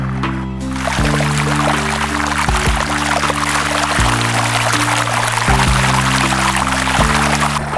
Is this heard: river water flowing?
yes